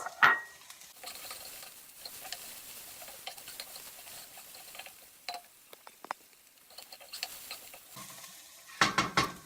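Minced garlic, two cloves, sizzles faintly in a pan with wilted greens for chow mein. Soft frying crackle runs throughout, with scattered spoon-on-pan clinks and a louder stirring clatter near the end.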